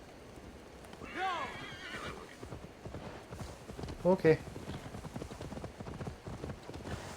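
Horse hooves clip-clop in a steady rhythm as a horse in Assassin's Creed Valhalla whinnies briefly; a voice speaks a single word.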